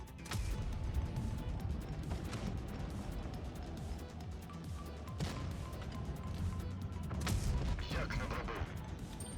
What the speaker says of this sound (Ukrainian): Тобто пробивається, бачите, в центр башти.